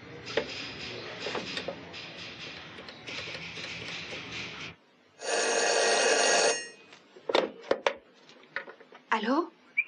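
An old-style telephone in a French-dubbed soap opera scene gives one bright, continuous ring of about a second and a half, following stretches of dialogue and room noise, with more talking and clatter afterward.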